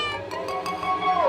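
A cat meows once in a drawn-out, tonal cry that bends downward at its end, standing out clearly and fairly close, with no talk over it.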